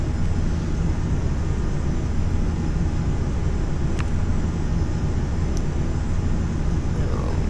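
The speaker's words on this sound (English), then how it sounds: "we're just taking a quick flight to Glasgow and back in this CRJ 700" Steady, loud engine drone of a CRJ 700 jet cruising in FSX flight simulator, a constant low roar throughout with only a couple of faint clicks.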